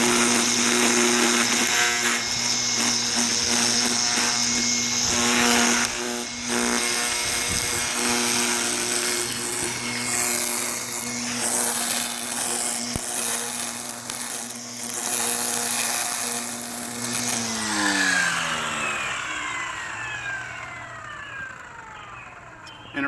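A Stihl FSA 85 battery string trimmer cuts grass close by with a loud, steady electric whine that holds for most of the stretch, then shifts pitch near the end as the line spins.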